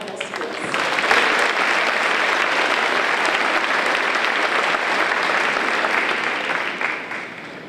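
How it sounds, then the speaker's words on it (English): Sustained audience applause at a school board student excellence celebration honoring award recipients, a dense even wash of many hands clapping for several seconds before tapering off. "if we could do one more round of applause, please join me in congratulating all of our recipients from our Milton Hill schools"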